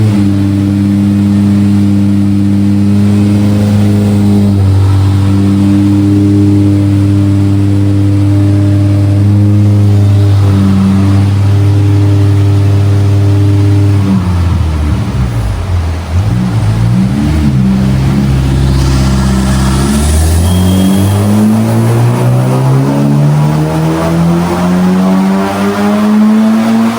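A modded Honda Civic FL5 Type R roars on a dyno, its engine climbing steadily through the gears at full throttle, then dropping away and revving back up, loud and close throughout.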